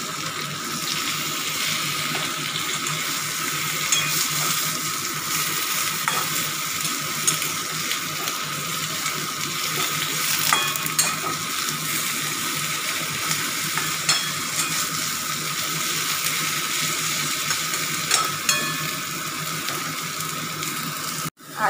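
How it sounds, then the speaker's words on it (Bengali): Potatoes and eggplant with salt and turmeric fry in a pan for a Bengali tangra fish curry, giving a continuous close sizzle with scattered spoon stirs and scrapes for about twenty seconds and no talking. "আলু বেগুনগুলো কষানো হয়ে গেছে"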